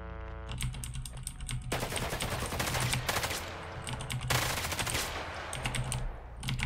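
Rapid bursts of automatic gunfire in the Roblox game Hellmet, dense crackling volleys in two long stretches separated by sparser shots, loud and close.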